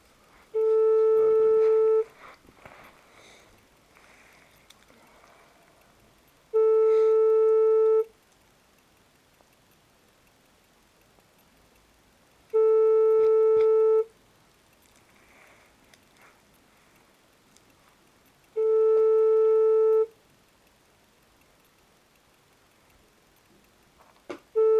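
A telephone line sounds while calling a local court back: loud beeping tones of about a second each, repeating roughly every six seconds, with quiet room noise in the gaps.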